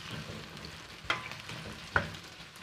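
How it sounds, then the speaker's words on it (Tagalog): Onions sauté in a pan for japchae, a soft steady sizzle close by, broken by two sharp clacks of a utensil striking the pan. "Ayan, gigisa natin."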